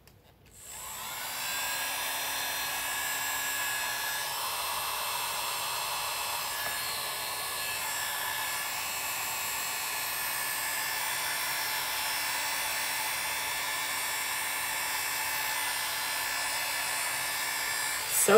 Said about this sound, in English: This time I'm going to use the Conair tool again.